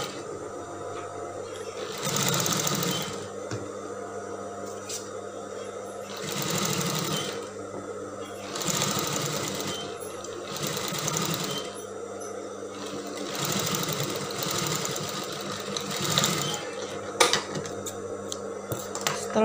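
A sewing machine stitching fabric for a winged mermaid dress, close and clear in repeated runs of rapid mechanical whirring separated by short pauses, with light handling clatter between bursts.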